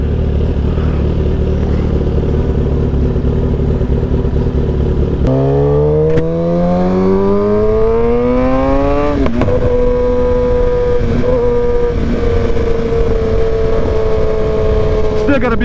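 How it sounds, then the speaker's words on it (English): A Corvette engine drops through downshifts, each gear change bringing a rising rev sweep that climbs, cuts off and rises again, loud and close with steady road noise underneath. "Downshifting is much smoother. That sound though. Nice little Corvette right here."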